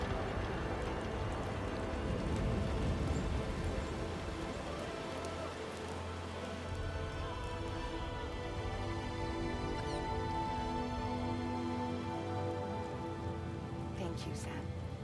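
Rain falls in a video game, a steady hissing patter of drops that carries on throughout, with speech over it.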